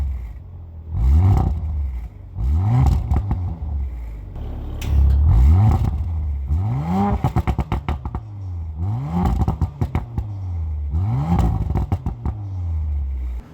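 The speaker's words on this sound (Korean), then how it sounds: "지금 머플러 사운드를 들으셨는데요" Audi RS5 Sportback exhaust burbling through repeated loud revs, about eight rising-and-falling blips with crackles and pops between them, close by and without talk.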